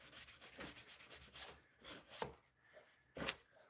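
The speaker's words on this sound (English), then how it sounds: "We're actually going to have to get the sander out for this piece." A power sander works a wood offcut for a small candle-holder project, giving a close, steady rubbing hiss with rhythmic strokes and a few sharper scraping bursts.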